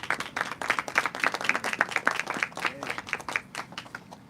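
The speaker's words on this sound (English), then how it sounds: "How about another round of applause for her?" Audience at a county small business task force announcement gives a round of applause, steady close clapping from a modest crowd lasting several seconds, with no talk over it.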